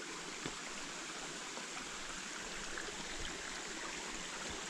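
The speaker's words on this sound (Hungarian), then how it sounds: "Egy patakátkelés." Stream water rushes steadily at a rocky stream crossing on a forest hiking trail in the Torockó mountains of Transylvania, a broad continuous wash of flowing water heard close by without any voices.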